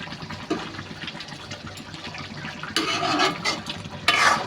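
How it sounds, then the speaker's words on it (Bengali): Malondi fish curry broth bubbles in a pan, a soft steady simmer with bursts of louder frothy gurgling and stirring-like swishes near the end. "দেখতেই পাচ্ছেন আমার ঝোলটা টকবুকি হয়েছে।"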